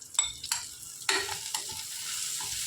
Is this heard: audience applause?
no